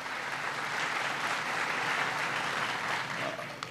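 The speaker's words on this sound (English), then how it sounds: "Give the mayor a big round of applause." A political rally audience in Bristol applauds the mayor, a steady, broad roar of clapping from a large crowd heard at a moderate distance, even and unbroken throughout.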